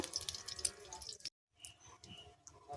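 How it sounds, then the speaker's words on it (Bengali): A little cooking oil is poured into a pan for a shrimp and fig dish, giving close, soft trickling and dripping splashes that break off for a moment and resume. "এখানে আমি সামান্য তেল দিয়ে দেব"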